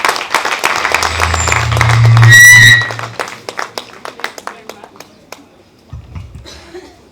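Audience applauding for a professor at a workplace safety and health event, clapping that swells with a brief whistle and cheer, then thins to scattered individual claps fading out.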